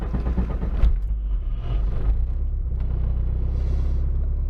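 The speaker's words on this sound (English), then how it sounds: "Let me start up the car." A car engine starting up, with a starter crank followed by a steady low idle rumble that holds loud and even to the end.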